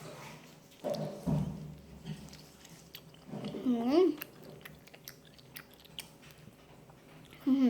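Someone chews and eats fried insects, including spiders, with soft wet munching and crunches up close. A voice makes brief humming and murmuring sounds between bites.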